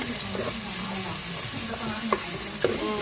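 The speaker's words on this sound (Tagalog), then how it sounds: "Gigisa lang natin yung bawang sibuyas." Garlic and onion sautéing in a pan for chicken tinola, a steady close sizzle and hiss with a few stirring scrapes of the utensil, and a brief spoken word over it.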